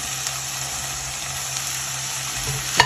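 Tomatoes, green chillies, coriander and curry leaves sauté in a hot pan, giving a steady, close sizzle and frying hiss throughout, with a brief clatter of stirring near the end.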